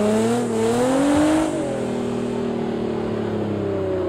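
A car on an ice arena in a racing video game drones with a loud, steady engine, pitch climbing briefly and then settling into an even hum, with no one talking.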